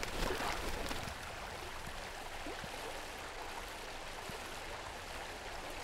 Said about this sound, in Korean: 옹달샘에서 시작된 물은 개울이 되고 샛강이 되고 큰 강이 된다.